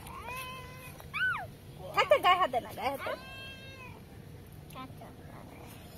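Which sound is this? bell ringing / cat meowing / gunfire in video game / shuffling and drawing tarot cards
cat meowing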